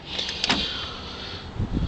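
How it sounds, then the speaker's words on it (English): A car door opens on a 1971 Camaro Z28 with original sheetmetal, heard as a short mechanical click and latch release followed by a soft creak and a faint second clunk, close by in a quiet space. "Well, here, might as well open this door too."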